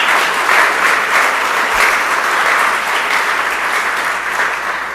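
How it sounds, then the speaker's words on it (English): Audience applause at a grand opening ceremony, steady sustained clapping from a sizable crowd, loud and continuous throughout with no speech over it. "So one more round of applause."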